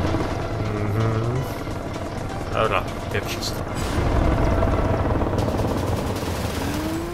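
A police helicopter in the racing video game NFS Rivals, its rotor thrum steady beneath car engine roar and rattling gunfire-like bursts, while someone talks over the noise.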